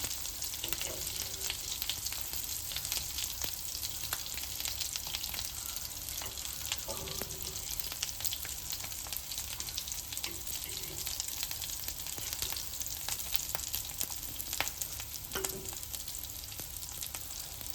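Sandwiches fry in a pan in batches, giving a steady close sizzle with occasional light scrapes and clinks, alone without talk.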